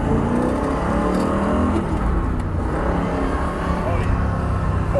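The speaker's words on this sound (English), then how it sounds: "he powered through the four speed manual transmission with a punch that would throw a camera in your" A Pontiac GTO muscle car accelerates through a four-speed manual transmission, its engine droning loudly and steadily while a person talks over it.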